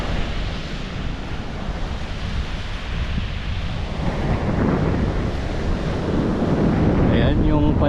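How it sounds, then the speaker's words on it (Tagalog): Strong wind buffets the microphone over the steady roar of big sea waves at a fishing spot, a loud continuous rush with surf building toward the end. "Malakas yung hangin dito. Tapos nadadala yung alon,"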